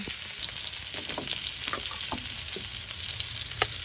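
Garlic and onion sautéing for pinakbet in a traditional dalikan clay stove pan, a steady close sizzle with scattered stirring clicks and scrapes, no talk.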